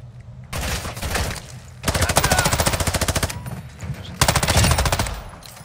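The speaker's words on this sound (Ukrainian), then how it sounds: "Хтось стріляв" Automatic gunfire in Call of Duty Warzone 2.0, three sustained bursts of rapid machine-gun fire with short pauses between, loud and close over game ambience.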